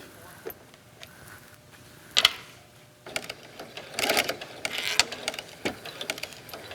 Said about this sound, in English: see how slowly I'm sewing?